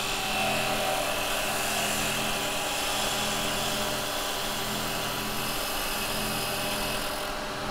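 A woodturning lathe spins at 2,500 rpm, giving a steady, continuous whirring hum with a low drone beneath it, even and unbroken throughout.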